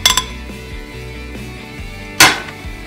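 Dishes and cutlery clink as butter is put into a bowl to melt for baking muffins, with a few light taps and one bright, louder ringing clatter near the end, close and clear.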